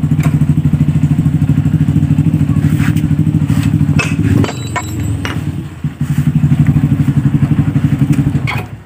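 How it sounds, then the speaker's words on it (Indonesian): A Honda Beat scooter engine runs rough with its primary pulley removed, giving a loud, close, rapid clattering idle with steady pulsing, briefly dipping near the middle before resuming. "jika ini suaranya masih kasar, berarti permasalahannya ada di bagian bearing kruk as"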